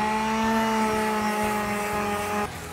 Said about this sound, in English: So just a quick sand again on the surface.